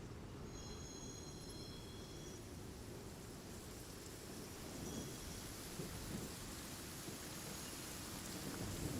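Steady rain with low rumbling thunder in the video game Genshin Impact, a continuous wash of downpour and deep rolling rumble that swells slightly toward the end, with no voices.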